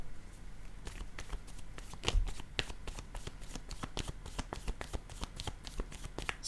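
Oracle cards being shuffled for a reading, a rapid run of crisp riffling flicks and slaps, close and steady throughout.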